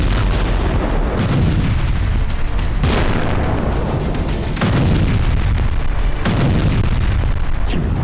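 Repeated heavy booms and blasts from strikes on Kharkiv roll in over a dense, continuous rumble, several sharp bursts landing every couple of seconds with no voices.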